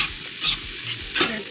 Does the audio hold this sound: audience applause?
no